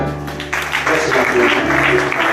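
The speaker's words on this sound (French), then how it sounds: "nous acclamons le Seigneur" A church congregation at a baptism ceremony breaks into applause for the Lord, the clapping swelling after a voice speaks and then holding steady and fairly loud, mixed with background murmur.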